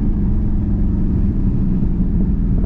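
A Dodge Charger Daytona 392 engine hums at a low, steady rumble as it is downshifted with paddle shifters, heard from inside the car with no sharp rev change.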